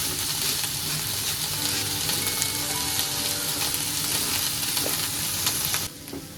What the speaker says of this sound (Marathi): यानंतर ब्रोकोली आणि कॉर्न घालून घ्यायचे